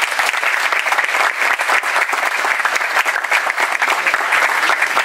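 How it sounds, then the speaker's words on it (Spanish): Loud, sustained applause from a school audience welcoming guests at a municipal event held at a technological institute, dense and steady clapping from many hands filling the whole stretch without pause. "les pido un fuerte aplauso para recibir a nuestros invitados de hoy."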